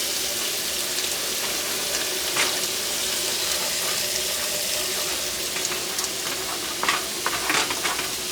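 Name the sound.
pork frying and sizzling in a pan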